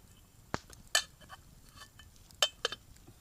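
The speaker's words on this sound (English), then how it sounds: "these wee stones picked up off the path in here, and they're going to sit between the inner tin and the base" Small path stones are dropped between an inner tin and its base, giving a few sparse, sharp metallic clinks and taps against tin in a quiet setting.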